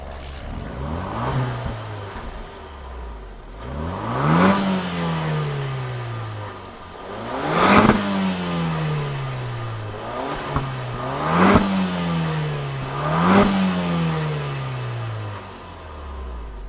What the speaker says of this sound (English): let's fire up this 4-cylinder turbo and see what it sounds like.